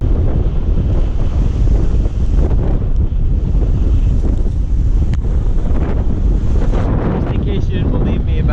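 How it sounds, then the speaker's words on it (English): Strong seasonal wind gusting at a beach in Tamarindo, a loud continuous roar buffeting the microphone with surf rumbling underneath for the whole stretch. "Just in case you didn't believe me about how strong the winds are this time of year"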